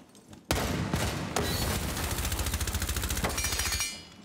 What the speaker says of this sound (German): Oh, die schießen durch die Wand.